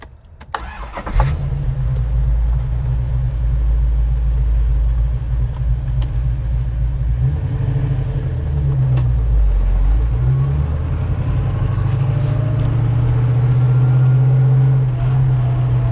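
A 1972 Jensen Interceptor with its 440 V8 and stick shift cranks briefly, fires and settles into a loud, deep rumbling idle, then revs and pulls away close by, the engine note rising and falling with gear changes.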